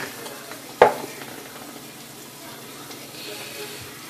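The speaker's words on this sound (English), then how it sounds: "So let's add some browning." Browning sauce hits a hot pot while cooking Jamaican rice: a sharp splash-crackle near the start, then a steady hissing sizzle that carries on evenly at close range, with no talking.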